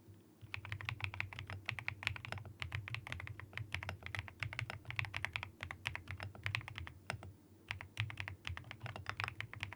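Continuous close typing on a thocky marshmallow mechanical keyboard, dense irregular clacks and muted thocks filling the whole stretch, no talking.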